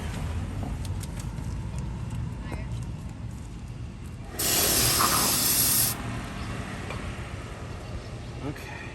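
A can of brake cleaner sprays onto front brake parts of a 2013 Ford C-Max in a sharp, loud hiss lasting about a second and a half, set against quiet garage background noise.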